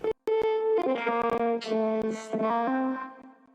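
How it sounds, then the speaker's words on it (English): A robotic, vocoded vocal line sings a short chopped phrase with a buzzy synthetic tone and effects trailing off at the end. "This space right here, I also try to fill it in with a vocoded vocal,"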